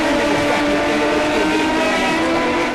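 Kawasaki ZX10 race bikes scream past down the back straight at a Masters Cup circuit race, a loud, dense engine roar from several motorcycles close together that holds steady throughout.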